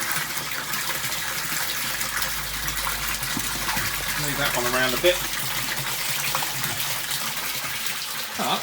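Water gushes steadily from newly installed garden pond pipework, a constant broad hiss close by, with someone speaking briefly over it.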